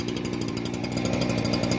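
Steel leaf blower feeding air through an old shop vac tube into a furnace for casting aluminum and lead: a loud, steady motor roar with a fast buzzing pulse throughout, close and unbroken, with no voices.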